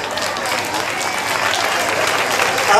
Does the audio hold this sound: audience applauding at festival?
yes